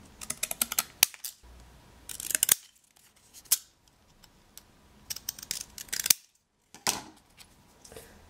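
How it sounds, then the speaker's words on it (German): Scissors cut black cardboard into small strips up close, crisp snipping bursts in irregular clusters separated by short quiet gaps, with no talking. "und schneide mir daraus dann so kleine Streifen"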